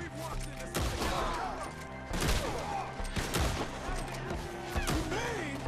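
Shotgun blasts in Red Dead Redemption 2, several sharp, booming shots spaced about a second apart amid a chaotic firefight, with voices shouting between them.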